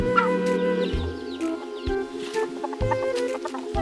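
Chickens clucking close by in a poultry yard, repeated short clucks and calls over a constant background hum.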